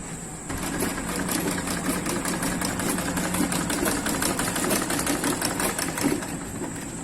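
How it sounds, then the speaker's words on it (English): A sewing machine stitches fabric for a pencil skirt, running in a steady, close, rapid mechanical rattle with a faint whine throughout, no voices. "So now I'm gonna stitch this down."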